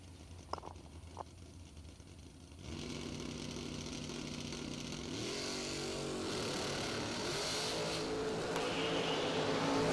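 A Fuel Tech class dragster race run: quiet idling at first, then an engine roars to life and builds into a loud, sustained rumbling drone that climbs in pitch toward the end.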